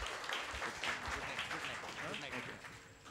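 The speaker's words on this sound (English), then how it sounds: "round of applause" Audience applause at a music academy open day, a moderately loud wash of clapping from a crowd that tapers off toward the end.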